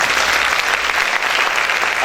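Loud, dense applause from a church congregation clapping for the Lord, a steady close roar of many hands sustained without a break.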